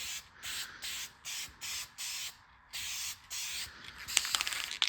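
Spray paint going on as a second coat, a series of short hissing bursts with brief pauses between them, close and steady, then a rougher rattling noise toward the end.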